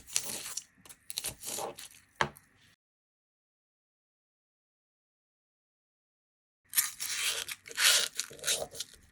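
Cutting the edges of a 3.5 inch thick styrofoam block, close-up crunchy tearing and squeaking strokes in two bursts separated by a long silent gap.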